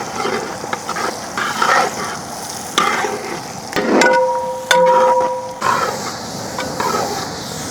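Finely chopped ginger and garlic crackle and hiss as they hit hot coconut oil in an outdoor village kitchen. The steady sizzle is loud and close, with a brief tonal whine partway through.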